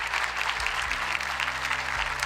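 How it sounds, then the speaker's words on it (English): A crowd applauds at a car launch event for new McLaren and Aston Martin models, a dense, even roar of clapping throughout, with a low hum and some faint background tones underneath. "We're going to get some applause."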